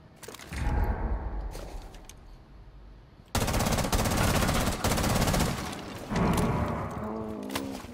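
A shotgun in the video game Rainbow Six Siege fires in loud, close bursts of gunfire with heavy booming blasts and rapid shots, alongside other in-game mechanical sounds.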